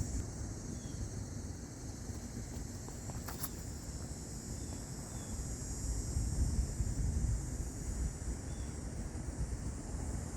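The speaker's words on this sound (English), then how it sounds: "There's a tailing right to left wind" Wind blowing steadily across an outdoor disc golf course, a continuous broad rushing roar buffeting the microphone, with no voices.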